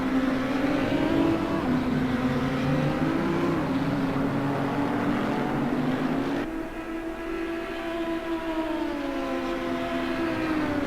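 Racing car engines in the Assetto Corsa sim during an endurance race at Monza, a steady loud drone with engine pitch sweeping up and down as cars pass, continuous throughout with no break.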